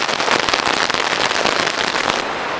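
Heavy rain pours down in a dense, steady roar of countless drops, loud and close, with no voices.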